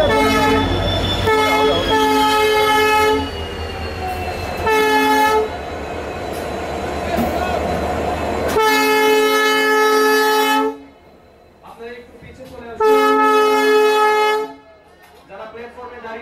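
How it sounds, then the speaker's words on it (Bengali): An Agartala to Udaipur passenger train sounds its horn in several long blasts as it departs the station, with rumble and clatter beneath and a few voices in the background. "আগারতলা রেল স্টেশন থেকে আগারতলা উদয়পুর যাত্রীবাহী ট্রেনটি সূচনা হয়ে গেছে"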